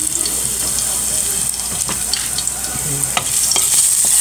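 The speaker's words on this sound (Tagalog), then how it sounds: "Maglagay ako ng konting mantika and then garlic. Igisa natin yung ating spinach." Garlic and spinach sautéing in a little oil in a pan, a steady close sizzle with scraping stir strokes and brief utensil clinks throughout, no talking.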